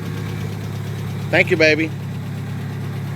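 A car engine idles with a deep, steady rumble through a newly fitted exhaust, and a voice briefly speaks over it partway through.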